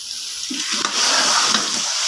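Meat curry with tinda browning in a pot on the stove, giving a steady close frying hiss and sizzle with faint stirring scrapes, heard alone without talk.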